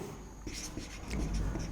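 Marker or chalk writing a definition on a classroom board during a chemistry lesson, with soft scratchy strokes and rubbing taps, close and moderately quiet.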